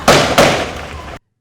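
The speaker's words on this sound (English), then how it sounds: "explosions in the distance while the police chased the people." Two sharp booming bursts, like distant explosions, sound in quick succession during a police chase in a curfew-bound street in Kingston, Jamaica. Each blast tails off in a rumbling decay before sudden silence.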